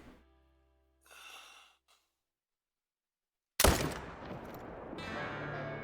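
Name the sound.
AR-300 rifle shot at a bull while hunting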